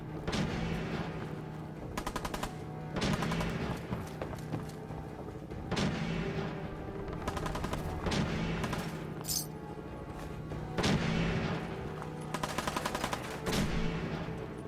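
Gunfire in Fallout 4, a steady run of repeated shots at regular intervals with rapid automatic bursts between them, moderately loud over a constant game background hum, no voices.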